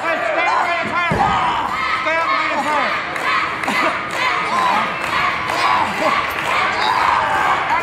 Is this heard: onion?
no